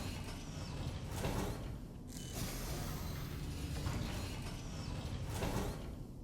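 Mechanical sliding and whirring of the RSI Perseus ship door in Star Citizen, a steady motorised rumble with a few creaking, ratcheting surges, fairly quiet and with no voices.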